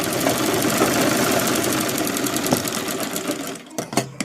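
A domestic sewing machine runs steadily, its fast rhythmic stitching clatter continuous and close for several seconds before briefly stopping and restarting near the end.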